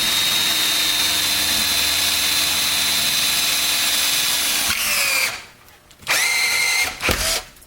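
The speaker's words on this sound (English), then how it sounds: "drill a hole through the frame and screw it up that way" A power drill whines loudly and steadily, then pauses briefly before revving up again in short bursts as it bites through a metal frame.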